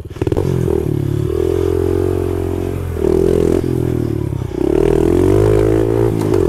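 A small pit bike engine idles and revs on a woodland trail, a loud close throbbing drone that rises and falls in pitch with a few throttle blips and no talk.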